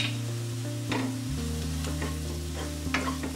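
Turmeric roasts with softened onions in a pan for pumpkin sabzi, a steady close sizzle under a low hum, with several sharp scrapes and clinks of stirring.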